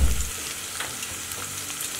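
Green chillies and curry leaves crackle and sizzle in hot oil in a pan for an Indian green beans sabzi, with a brief louder burst at the start and then a steady, close, hiss of frying.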